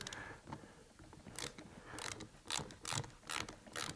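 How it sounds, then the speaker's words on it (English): A screwdriver slowly turns out a wood screw holding the rubber recoil pad on a shotgun, giving quiet, close ratcheting creaks and clicks in short repeating bursts. "we're just going to slowly loosen, and you can see the pad starting to come off. It's basically just a wood screw."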